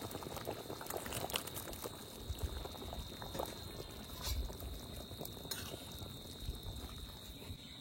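Curry bubbles and simmers in a pot over a village cooking fire, a continuous close churning of liquid with a faint steady hiss and no voices.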